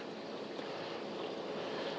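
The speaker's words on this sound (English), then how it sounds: "it's pumping the water into the top portion up here" CROWNFUL countertop ice maker pumping water into its top section, a steady, even whooshing hum with watery hiss, constant throughout with no talking.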